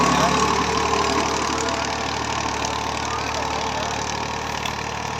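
A Massey Ferguson MF 240 tractor, a 2000 model, pulls a 9-tine cultivator through field soil in Punjab, Pakistan. Its engine drones loudly and steadily throughout, with a rough, continuous rumble.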